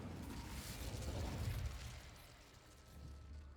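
Incendio fire spell cast in Hogwarts Legacy, a loud whooshing burst with low rumbling that swells and then fades, followed by a quieter low roar.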